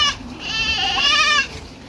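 A goat gives one loud, wavering bleat at close range in a flock of goats and sheep, with quiet farmyard background around it.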